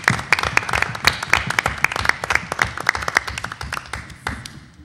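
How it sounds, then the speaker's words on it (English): An audience at a board of education meeting applauds its teachers, a dense burst of clapping from many hands that fades out toward the end. "I just want to take a moment and applaud their work."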